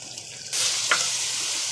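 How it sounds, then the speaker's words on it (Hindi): Minced meat (keema) dropped into hot oil with garlic and ginger, bursting into a sudden steady sizzle after a quiet start, with a brief stirring clink, close and continuous. "इसको तकरीबन 4 से 5 मिनट आपने ऑयल में भून लेना है"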